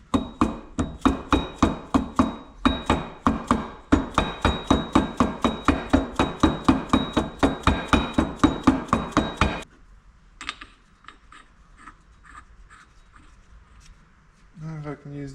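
Hammer blows on a Ford Mustang differential part for a Formula Drift car, a fast steady run of sharp metallic strikes for about ten seconds, then a few scattered clinks and knocks.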